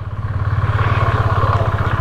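A motorcycle engine throbs steadily at close range while the bike pulls over beside a petrol pump, its low, even pulsing beat filling the whole moment with no voices.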